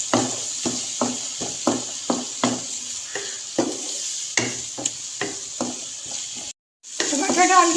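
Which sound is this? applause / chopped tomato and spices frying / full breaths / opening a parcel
chopped tomato and spices frying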